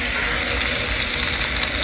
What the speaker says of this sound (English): is we want to get this seared